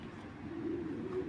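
A male Pitt Kittel racing pigeon gives a low, soft coo close by, a quiet continuous murmur with no voices.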